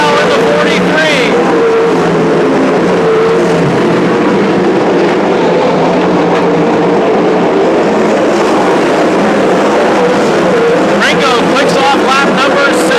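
A field of 360 sprint cars races around Petaluma Speedway, engines droning loud and continuous with overlapping high revs, as an announcer talks over the pack throughout.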